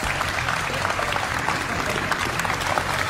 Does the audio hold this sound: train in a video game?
no